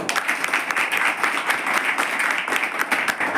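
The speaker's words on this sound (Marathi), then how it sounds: "टाळ्या वाजवा" An audience at a tribal hostel in Amravati claps continuously, a thick wash of many hands with slight rhythmic surges, close and loud with no talking over it.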